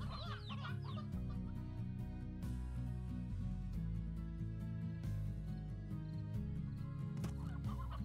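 Hens cluck repeatedly in the Slime Rancher video game, steady game-style clucking over a constant background music bed with no talking.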